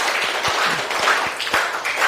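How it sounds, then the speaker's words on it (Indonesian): A classroom group claps for a group's presentation, a steady wash of many hands that is moderately loud and continuous, with no talking over it. "Itulah tadi presentasi dari kelompok 4 ya. Tepuk tangan dulu."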